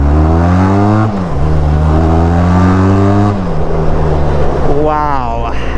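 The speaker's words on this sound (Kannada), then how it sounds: "ಥ್ರಾಟಲ್ ಅಂತಿದ್ದೀನಿ, ಎಕ್ಸಾಸ್ಟ್ ನೋಟಲ್ಲಿ ಸ್ವಲ್ಪ ಚೇಂಜ್ ಆಗುತ್ತೆ" A Benelli TRK502 motorcycle with a loud exhaust, freshly serviced, revs up and down repeatedly at close range, its deep throbbing note rising and falling in several throttle blips before settling into a rougher idle.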